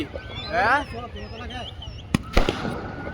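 New Year fireworks and firecrackers go off in a lively outdoor celebration. Whistling rockets rise, followed by a couple of sharp, loud bangs near the end.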